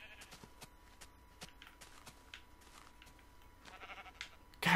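Sheep bleat a few times in a video game, faint, short calls over a low game background, ending in a sudden louder burst.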